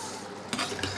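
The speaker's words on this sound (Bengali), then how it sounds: "তো মাছটাকে এখন আমি মিক্স করে নিব মশলার সঙ্গে।" Koi and taki fish are tossed with spices in a pan. After a quiet half-second, a spoon brings a burst of close scraping and clinking with a light sizzle.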